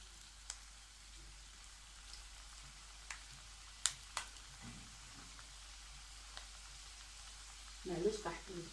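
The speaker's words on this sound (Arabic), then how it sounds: "صافي غنبدا نقلي بسم الله" Sesame pastries (zanjlan) frying in oil give off a faint, steady hiss with scattered small pops. A louder bubbling burst rises near the end.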